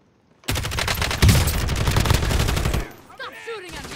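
Dense automatic gunfire in the video game Warzone, a loud close burst of rapid shots lasting a couple of seconds before cutting off, followed by quieter game sounds and brief voices.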